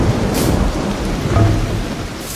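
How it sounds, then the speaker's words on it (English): Minecraft thunderstorm with lightning, steady loud rain hiss throughout and low rumbling thunder swelling and fading, no talking. "Lightning."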